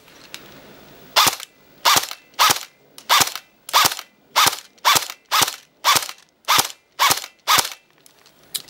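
A DBoys AK74 RK03 airsoft rifle fires on semi-auto, eleven sharp, evenly spaced cracks about every half second, loud and close, with quiet pauses between.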